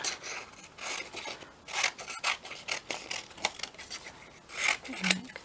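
Scissors cutting out paper ephemera, a close series of irregular crisp snips and rasping paper strokes, with faint bits of voice around them.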